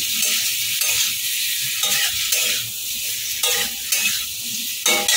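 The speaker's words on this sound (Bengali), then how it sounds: "এখন আমি এর মধ্যে আলুগুলো দিয়ে দেবো। আলুগুলো দিয়ে ভালো করে নেড়ে চেড়ে নেব" Potatoes stirred into hot oil and spice paste, a loud continuous sizzle close by with rhythmic scraping and tossing of a spoon through the pan, no voices.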